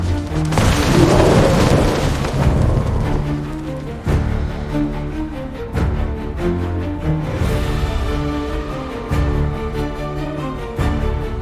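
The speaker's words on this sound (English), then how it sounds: "the storm's getting worse" A heavy storm during a blizzard, with a deep rolling thunder-like rumble that swells loud at first, then continues as a dense, noisy roar with scattered low booms and crackles throughout.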